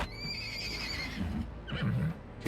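A horse in a video game whinnies with a long, high, wavering neigh, followed by snorting and shuffling sounds close by.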